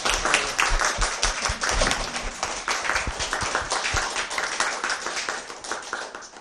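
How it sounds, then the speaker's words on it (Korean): Audience at a Korean book talk claps to welcome a guest speaker, dense sustained applause from a seated crowd lasting several seconds, steady and fairly close, with no voices over it. "우선 선대인 소장님을 박수로 맞아주시기 바랍니다"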